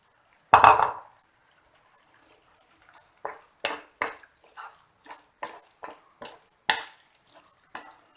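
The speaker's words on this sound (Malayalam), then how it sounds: "ഈ ചെമ്മീൻ ഇതിലേക്ക് ഈ മസാലയിലേക്ക് ഒന്ന് ഇളക്കി യോജിപ്പിച്ച് കൊടുക്കുക" Fried prawns are stirred into a masala in a pan, with a sharp metal clang at the start followed by a run of scraping, clinking spoon strokes against the pan and quiet gaps between them.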